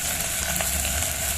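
Spices roast and fry in a pan for mung dal khichdi, a dense, continuous close-up sizzle with no break and no voices.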